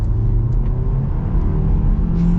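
A 2024 Kia Seltos X-Line with a turbo engine accelerating hard, a loud, steady engine drone rising gradually in pitch from inside the car, with no talk over it.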